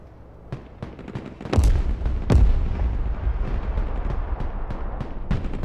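Autocannons and machine guns fire in the Broken Arrow war game, a continuous crackle of rapid shots with two heavier booming blasts early on, dense and loud throughout.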